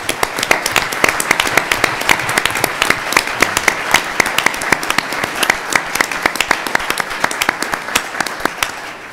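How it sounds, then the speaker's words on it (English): A crowd at a university presidential announcement applauding steadily, dense clapping from many hands that holds at an even level throughout before easing slightly at the end. "May I invite a round of applause for these great people."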